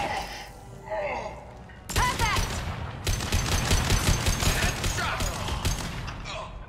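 Gunfire in the video game Mass Effect 2: a quiet stretch with voices, then a sharp onset into loud sustained bursts of rapid shots and impacts, with talk mixed in.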